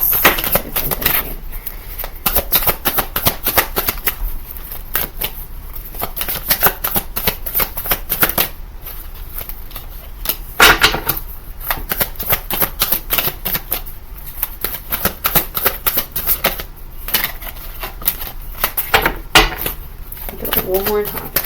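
Tarot cards shuffled continuously by hand, a steady stream of close, crisp flicks and riffles lasting the whole time, with a voice speaking over the shuffling.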